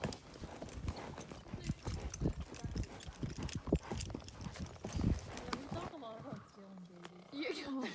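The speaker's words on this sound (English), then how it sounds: "Wild horses, Claude." Rapid hooves clip-clop on hard ground in a quick, uneven rhythm, close and clear, before fading into quieter background sounds with a brief whinny-like cry.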